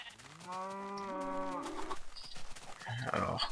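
A Minecraft sheep bleats in a farm setting, a sustained wavering animal call lasting about a second and a half, followed by softer scattered game noises and a brief burst of speech near the end.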